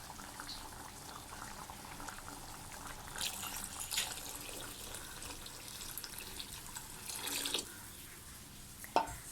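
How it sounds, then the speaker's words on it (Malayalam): Water poured steadily into a pot of curry made with ground lentils, a continuous rushing, bubbling liquid sound with no talking. "ഞാനിപ്പോൾ കുറച്ചധികം വെള്ളം ഒഴിച്ചു കൊടുക്കുന്നുണ്ട്"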